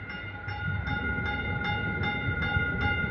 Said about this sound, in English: we have Caltrain 630 pulling into this Menlo Park station.